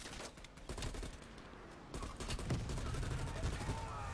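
Rapid gunfire in the Call of Duty Black Ops Cold War video game, aimed at a tire, comes as a dense volley of repeated shots at moderate loudness with little talk.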